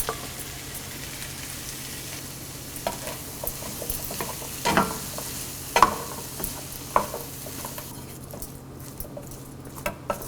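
Boiled jackfruit seeds are stirred in a pan of frying spice masala, a soft continuous sizzle broken by scattered scrapes and clicks of the spoon, fairly quiet and close, with no voices.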